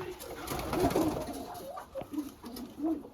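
Soft repeated cooing of a pigeon close by, low throaty notes rising and falling over a faint background hiss.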